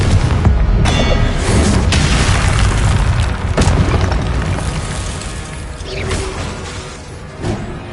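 A Confringo spell blast booms in the video game Hogwarts Legacy, a loud, close explosion with a heavy low rumble and crashing debris that slowly fades over several seconds.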